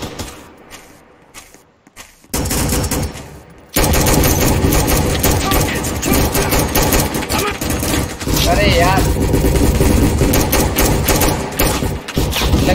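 Rapid automatic gunfire in the Roblox shooter game Recoil, loud and dense bursts dominating most of the clip after a quieter start, with someone briefly speaking over the shots.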